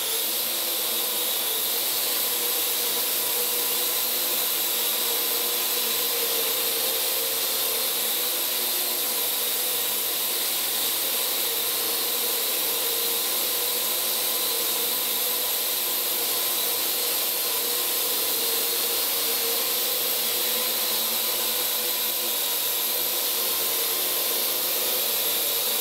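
A Parrot AR.Drone quadcopter flies indoors near a Christmas tree, its rotors giving a steady high-pitched buzzing whine that holds unbroken and fairly loud throughout, with no talking.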